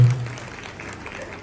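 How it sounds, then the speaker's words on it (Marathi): Studio audience of the Marathi game show Home Minister applauding a contestant, a short burst of dense clapping that starts loud and settles into a steady patter. "प्रियंका वहिनीसाठी जरा जोरात टाळ्या वाजवा."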